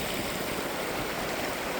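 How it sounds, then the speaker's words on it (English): A small mountain creek flows along a trail in the Sierra Nevada backcountry, giving a steady, broadband rush of moving water that runs evenly throughout with no voices. "Little Creek."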